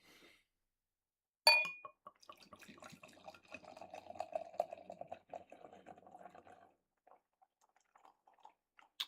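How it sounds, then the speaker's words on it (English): Barley wine is poured from a bottle into a glass: a sharp glass clink, then several seconds of gurgling, trickling liquid, tapering into a few last drips, quiet and close. "Let's get into the theatrics of a 5-minute pour."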